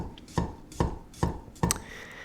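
Four crisp knife chops land on a cutting board at an even pace, close and distinct, with quiet in between and no voices.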